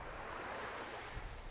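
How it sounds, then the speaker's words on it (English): Gentle surf washes onto a beach in Destin, Florida, a soft, continuous hiss of small waves with no talking, steady and fairly quiet throughout. "Walking here on the beach."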